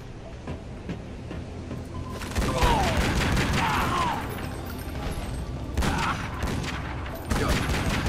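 Gunfire in the Tomb Raider: Legend video game crackles as bursts of rapid shots over a background of game ambience and music, with louder volleys coming in separate clusters.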